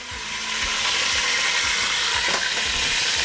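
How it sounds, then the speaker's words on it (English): Rice frying in a pan, a steady, loud hiss of sizzling oil with continuous bright crackle and occasional soft scraping, close and unbroken throughout. "now I'm gonna fry the rice"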